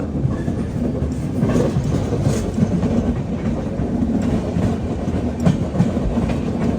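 Chennai–Bengaluru Mail train pulling into Bengaluru Cantonment station, a loud steady rumble of railcars with rhythmic clickety-clack of wheels over rail joints, heard from on board without voices.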